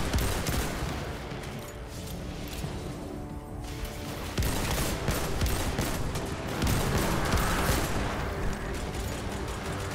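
Video game gunfire in Season of Salt, a dense, continuous barrage of rapid shots and impacts at steady loudness with no pauses.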